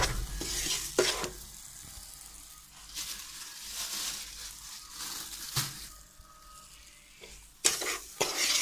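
Homemade jaggery gajak mixture cooks in a pan over low heat, sizzling softly while a spoon scrapes and stirs in uneven strokes, with several sharper scrapes standing out.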